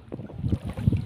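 Strong wind buffets the microphone at sea, low gusty rumbling in uneven bursts, close and fairly loud with no voices.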